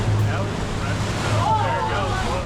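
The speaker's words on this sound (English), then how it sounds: "The rhythmic sound of waves lapping against the hull lulled us into a state of blissful" Waves lap against the hull of a boat on the open ocean off Captain Cook's Monument near Kona, Hawaii, a steady wash of water with a low hum and wind noise throughout, and faint voices in the background.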